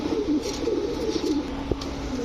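Aparajita pigeons, an egg-laying breeding pair among caged birds, coo in a low, steady, wavering murmur that runs unbroken throughout, close by and moderately loud, with no one talking.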